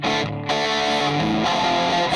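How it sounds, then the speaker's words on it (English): Loud, sustained distorted electric guitar played through a heavily modified Epiphone Valve Junior tube amp, thick and saturated with a brief dip before ringing on, heard alone and up close. "This is the sound of my guitar,"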